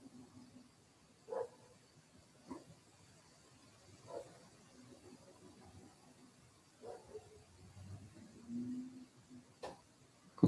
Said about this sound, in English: the barking dog in the distance.